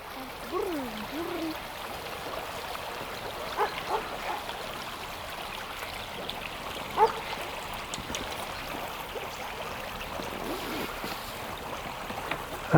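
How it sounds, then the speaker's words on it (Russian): A small river murmurs in winter, a soft steady rushing and trickling that stays low and even throughout, with occasional faint knocks and no clear talk. "Послушаем, как речка шурчит."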